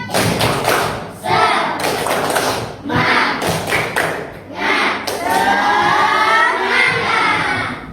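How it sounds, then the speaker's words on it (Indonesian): A class doing a rhythmic spirit clap together, loud, close, patterned bursts of hand claps and taps in a set beat, with short pauses between phrases and children's voices calling out alongside. "Yuk, tepuk semangat."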